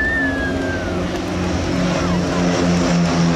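A de Havilland Dragonfly propeller biplane drones steadily with a sustained engine hum and a faint falling whine, loud and close throughout, under someone talking.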